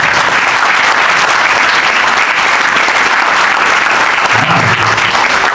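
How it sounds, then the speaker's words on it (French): Loud, steady applause from an audience at an autocross club's annual general meeting, a dense continuous clapping that fills the whole stretch without pause, with a brief low murmur near the end. "Michel Pitou, on peut l'applaudir."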